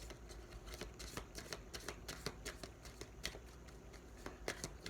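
A deck of Lenormand oracle cards is shuffled close to the microphone with a quick, steady riffling patter of soft flicks, quiet and without any voices.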